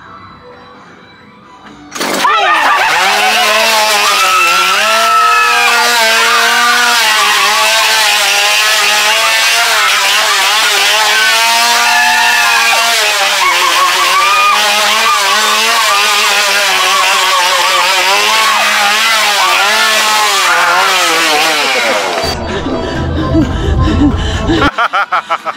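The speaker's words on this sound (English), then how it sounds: "you try to cut off my legs with a chainsaw at the end" A chainsaw's small two-stroke engine revs loudly and steadily outdoors for about twenty seconds, its pitch wavering up and down, then cuts off abruptly.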